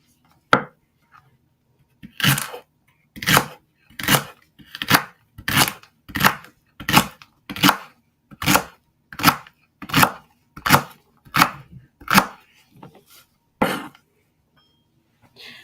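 Regular, crisp knife strokes chop through celery on a cutting board, about fifteen evenly spaced thwacks near the mic with quiet gaps between, then one last cut.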